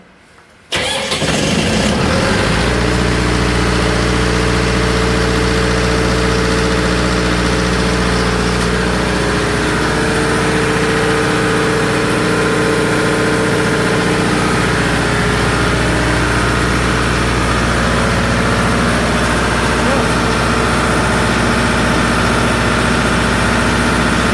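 A fire pump diesel engine cranks and starts, then runs steadily at a loud, constant idle during a test run after its starter motor was replaced, with a continuous low rumble and no talk.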